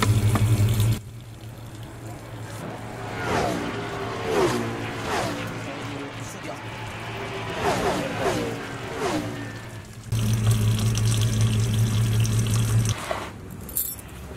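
Coolant running and splashing out of a car radiator during engine work in a garage, a steady watery pour with faint metallic clinks, loud at the start and again near the end.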